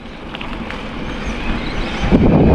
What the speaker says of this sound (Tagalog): Medyo malamig ang simoy ng hangin.